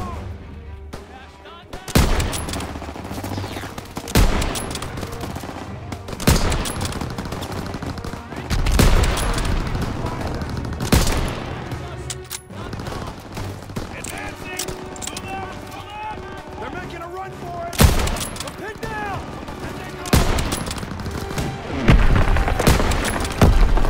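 Gunfire in the WWII shooter Call of Duty: WWII during a factory level, with loud repeated shots and bursts, some rapid volleys and booms, under game voices and soundtrack.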